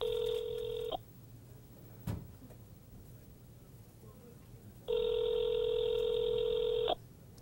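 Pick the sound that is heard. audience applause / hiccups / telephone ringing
telephone ringing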